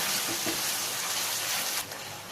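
Prawn masala curry being stirred in a pan, a close, continuous bubbling sizzle with soft scraping of the spoon, easing off slightly near the end.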